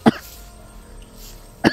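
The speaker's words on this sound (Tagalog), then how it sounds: "Medyo inuubo po tayo." Two sharp coughs, one at the start and one at the end, separated by quiet background noise.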